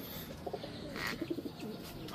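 Pet pigeons coo softly inside their cage in a few low, throaty bursts, set against a faint, steady background hiss.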